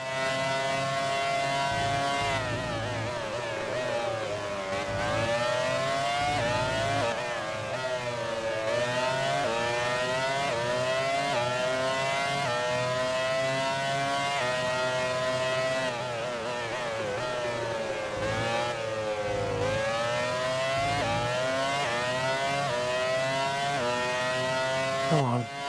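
Race cars from the Grand Prix 4 video game roar nonstop, their engines rising and falling in pitch through gear changes and close racing, loud and continuous throughout.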